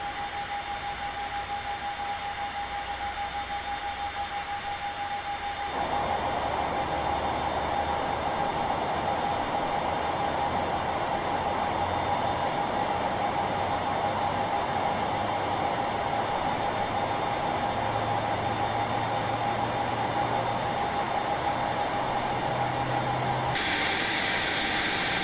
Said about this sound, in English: Got our engine 1 started, which I think is our left engine